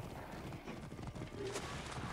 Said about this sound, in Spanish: no le dispares a mi caballo